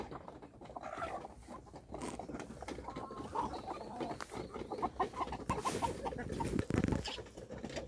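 Mother hens cluck steadily and close by in a coop, a busy overlapping chorus of low clucks with occasional sharper calls, no talk.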